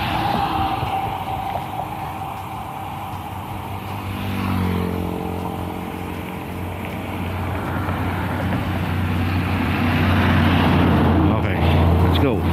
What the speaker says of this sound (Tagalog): Palampasin natin yung mga truck.